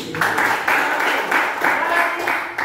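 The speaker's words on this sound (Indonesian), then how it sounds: "Tepuk tangan dong Mas Sudi" Applause from a classroom during a teaching practice session, a steady wash of many hands clapping at close range, continuous for a few seconds with slight surges.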